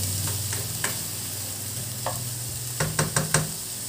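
Chicken gizzard sautéing in a pan, a steady close sizzle with a low hum beneath, punctuated by a few light scrapes and a quick cluster of utensil taps near the end.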